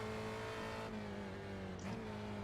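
A Spec Racer Ford race car in iRacing holds a steady, faint engine drone in fourth gear with a brief pitch dip near the end.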